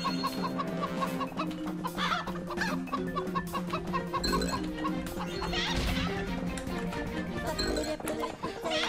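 Chicken clucks ring out repeatedly in a video game amid crashes and thwacks, with a German-speaking player talking over the busy, jumbled game audio.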